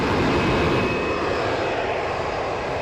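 Airplane engine revving up at Raleigh-Durham International Airport, a steady, broad roaring drone heard from a distance, constant throughout with no voices.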